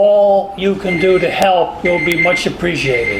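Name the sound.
alarm going off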